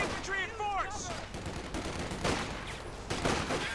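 Heavy machine gun fire in Company of Heroes 2 rattles in bursts amid battle noise, with clipped radio-style voice callouts early on.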